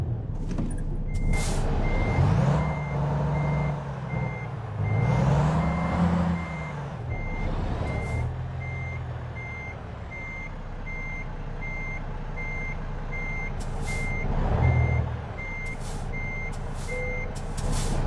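Truck reversing alarm beeps at a steady, evenly spaced rate throughout, with engine rumble, air-brake hiss and revving in American Truck Simulator, all loud and close.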